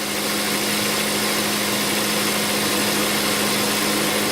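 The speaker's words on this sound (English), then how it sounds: "And there goes the compressor clutch." A 2008 Ford Escape engine idles steadily and loudly up close as the AC compressor clutch engages, giving a constant mechanical hum and whine with no speech.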